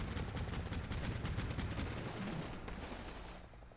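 Sniper and machine gun fire in an urban warfare video game: continuous dense bursts of distant automatic fire crackle steadily, then thin out and fade toward the end.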